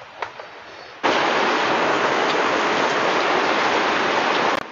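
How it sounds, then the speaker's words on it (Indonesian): Steady drizzling rain starts abruptly after a brief quiet moment, then keeps up as a dense, even hiss pattering on surfaces nearby. "Suara hujannya masuk enggak ini ya?"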